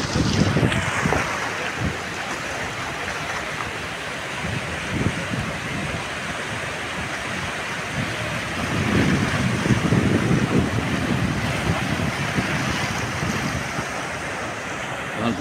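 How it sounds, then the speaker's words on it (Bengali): Sea waves rolling in at a river mouth where the ocean meets the estuary, heard from a boat as a steady roar of surf and wind, swelling louder near the middle. "ঢেউটা এদিক থেকে আসছে"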